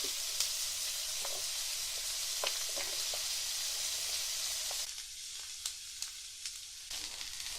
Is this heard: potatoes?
yes